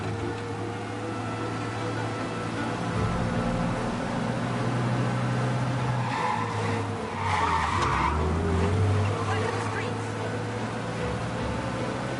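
Tires skid and squeal during a car chase in the Mafia video game, with engine roar and sliding screeches rising in the middle, under occasional speech and constant road noise.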